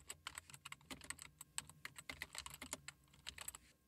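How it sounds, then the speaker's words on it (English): Rapid, light keystrokes on a computer keyboard, an uneven but continuous patter of close, quiet clicks with short pauses, heard alone. "In this box, type in the URL to your website."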